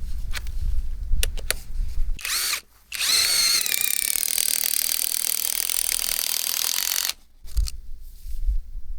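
A power drill whirs loudly and steadily for several seconds after a few brief bursts, driving tent stakes into rocky soil at a campsite, with a short pause and then a final burst, up close.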